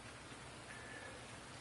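Rain falls steadily and softly on a farm, a brief, faint, even patter with no other sounds.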